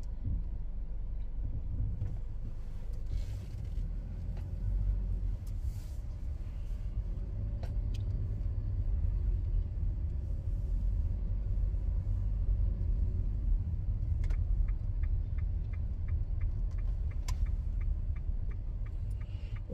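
Traffic from many cars on a New Zealand road, a continuous low rumble of passing vehicles with intermittent ticking clicks like a turn signal, steady and moderately distant, heard without talk.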